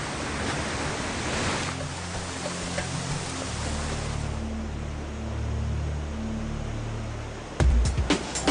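Waterfall at Angkor, Cambodia pours down with force, a steady, dense roar of rushing water heard close up for several seconds, with a low engine-like hum underneath and a brief knock near the end.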